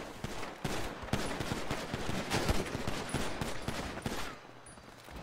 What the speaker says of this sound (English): Who's shooting behind us?